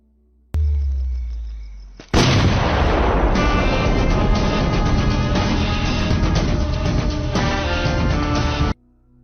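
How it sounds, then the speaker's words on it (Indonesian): A loud, sudden film explosion blasts in after a low rumble, followed by a sustained roaring, crackling wash of debris and fire that fills several seconds before cutting off. "David lalu meledakkan tangan Satyan agar Satyan tidak bisa menulis berita-berita lagi."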